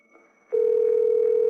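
Unanswered telephone call: after a brief quiet start, a steady electronic ringback tone sounds loudly and alone until the end.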